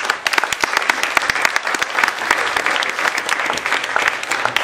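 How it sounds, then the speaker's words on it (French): A conference hall audience applauds loudly at a talk on the art of vibration, a dense, sustained burst of many hands clapping with crisp individual claps popping out across the whole stretch. "Je pense qu'on peut les applaudir très fort."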